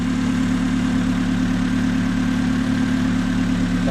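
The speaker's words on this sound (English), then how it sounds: "Sounds like a nice, healthy Honda motor." A Honda engine swapped into a mini truck idles steadily at close range, a smooth, even low hum with faint mechanical vibration and no voices over it.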